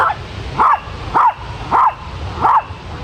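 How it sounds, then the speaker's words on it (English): A dog barks four times at an even pace, loud and close, with short pauses between each bark. "Sadie, stop barking at people"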